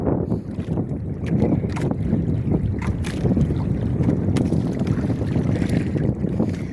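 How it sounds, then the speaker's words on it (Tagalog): Strong south wind roars steadily, buffeting the microphone with a constant low rumble, mixed with the wash of water around a small fishing boat. "Sobrang lakas ng hangin mga katemas o timog"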